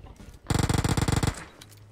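Rapid automatic gunfire from PUBG Mobile: one tight burst of about a dozen shots lasting under a second, loud and close, followed by a fading tail. No voices over it.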